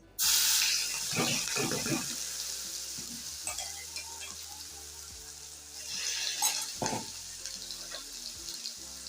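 Ginger, garlic and green chili paste hits hot oil for tempering a cabbage and pea curry, giving a loud burst of sizzling that fades to a softer steady fry, with a few stirring scrapes and a renewed crackle later.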